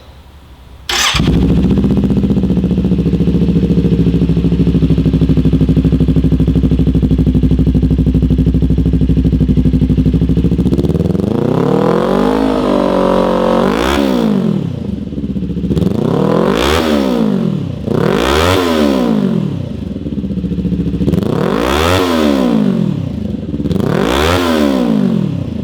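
Kawasaki Ninja 400 sportbike fitted with a Leo Vince LV-10 slip-on exhaust, already warm, idles loudly and then blips the throttle in a series of sharp rising-and-falling revs, close to the mic with no talking.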